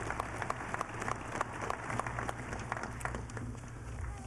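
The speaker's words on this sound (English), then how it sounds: "Round of applause for our distinguished guests" Steady applause from an audience honoring distinguished guests at the inauguration of Nevada Governor Brian Sandoval, dense overlapping claps at moderate level sustained throughout, with a low hum underneath.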